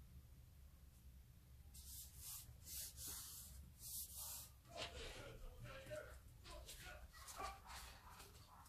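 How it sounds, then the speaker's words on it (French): Neighbour's dog barking in repeated bursts from another home, faint and somewhat muffled, mixed with nearby rubbing and scraping sounds and some talk. "c'est mon voisin qui s'énerve avec son chien"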